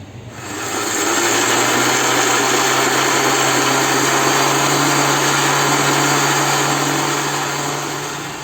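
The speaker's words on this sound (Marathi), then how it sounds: "आता आपण हे मिक्सरला फिरवून घेऊया." A mixer grinder blending watermelon juice whirs loudly and steadily for several seconds, its motor hum starting up, holding constant, then tapering off at the end.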